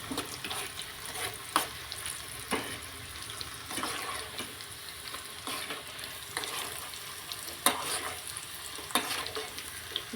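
Dried red chilies and curry leaves fry in oil for a tempering for a raw mango pickle. The sizzle is steady and crackling, broken by repeated sharp clinks and scrapes of a spoon stirring in the pan, close up and with no talking.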